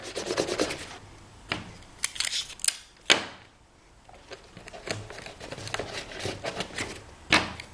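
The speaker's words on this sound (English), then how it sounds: "I'm going to use a big piece of tape there" Adhesive tape is applied to a llama piñata: irregular close crinkles, pulls and sharp snaps of tape being torn and pressed down, with quiet gaps between bursts.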